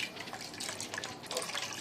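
Extra water poured into a soya ball white kuruma gravy, a steady soft splashing and trickling of liquid lasting the whole moment, close and fairly quiet with no talking.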